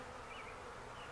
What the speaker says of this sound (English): if you do see a bee swarm,